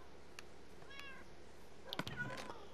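Minecraft cats meow softly, one thin mew early on, then a cluster of quick overlapping meows near the end, faint against quiet background.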